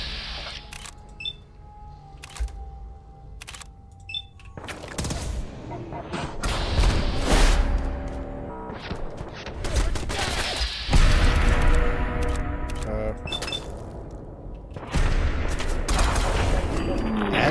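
Scattered gunshots and crashing impacts from an enemy gunner in Fallout 4 with Sim Settlements 2 grow denser partway through, with sharp clicks and a voice talking intermittently.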